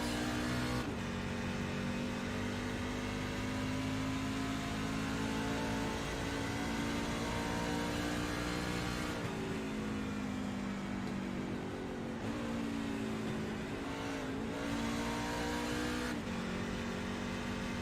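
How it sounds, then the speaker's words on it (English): A race truck lapping Phoenix in the Extreme Truck Series, its engine droning loud and steady, then dropping pitch several times as it downshifts through the corners, heard from onboard with no talk. "Sounds like he's shifting down a gear coming through the corners"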